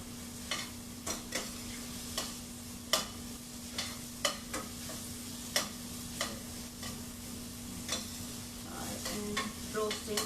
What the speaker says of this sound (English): I am roasting onions, and parallelly we are going to cut tomatoes.